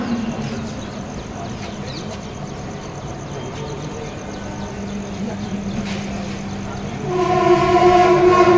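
A crowded commuter train at Diva station rumbles with a steady low drone and rail noise, growing louder with a rising tonal whine near the end, while faint voices murmur in the background.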